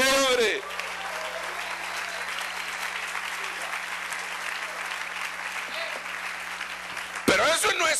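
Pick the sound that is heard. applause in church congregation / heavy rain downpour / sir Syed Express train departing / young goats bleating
applause in church congregation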